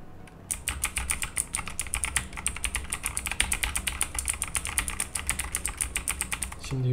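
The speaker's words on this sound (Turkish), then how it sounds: "Şimdi tuş seslerini birlikte dinleyelim." Typing on a Rampage KB-R81 mechanical keyboard with blue switches: rapid, crisp, clicky keystrokes in a fast, even stream, close up, with no talking.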